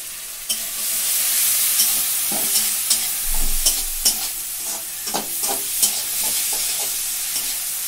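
Moong dal fries and is stirred in a pan, giving a steady bright sizzle with repeated scraping and clinking stir strokes at a close distance, and no voices.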